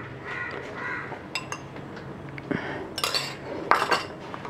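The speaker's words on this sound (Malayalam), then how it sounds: "ഇത് നന്നായി അങ്ങ് മിക്സ് ചെയ്ത് കൊടുക്കാം." Onion chutney and coconut oil are mixed by hand with a spoon in a dish, giving soft, close scrapes and light clinks, while crows caw in the background.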